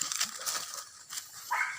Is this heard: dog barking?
yes